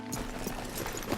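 Horse hooves in the Western video game Red Dead Redemption 2 clop steadily at a walking pace on a dirt street. The hoofbeats are moderately loud and close over a low, busy town ambience.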